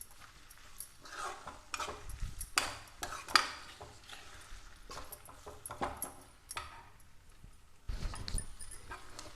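A spoon clinks and scrapes against a pan while fried egg pieces coated in pepper powder are stirred, giving irregular metallic taps and soft scraping, fairly quiet and close.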